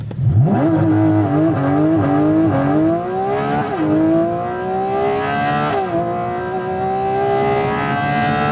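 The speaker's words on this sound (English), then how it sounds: "Let's give it a launch right here." A Porsche 718 Cayman GT4 RS with PDK gearbox launching hard, its engine screaming up through rising revs with quick gear changes and slight wheel spin, loud and close inside the cabin with no talk.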